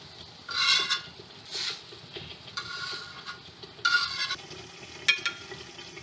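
Besan altay paltay, gram-flour pancakes, cooking on a slow flame in a pan: a soft, quiet sizzle with several short clinks and scrapes of a utensil against the pan.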